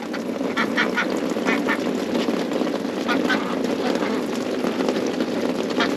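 Egg-laying ducks quacking in repeated short bursts over a steady mechanical drone, fairly close, with some murmured talk mixed in.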